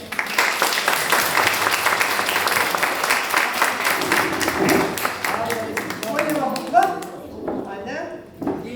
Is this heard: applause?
yes